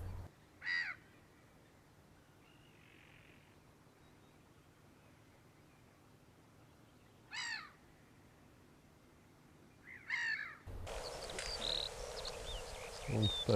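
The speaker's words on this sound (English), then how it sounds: "A flock of gulls flies by on migration." Migrating gulls fly past outdoors and give a few short harsh calls at spaced intervals against quiet ambience, before a louder, broader noise takes over near the end.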